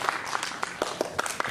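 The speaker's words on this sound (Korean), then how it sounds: "박수 좀 쳐주세요." Applause from a congregation at a Sunday church service at Life Church in Vancouver: a short burst of scattered, moderately loud hand claps with soft murmuring beneath.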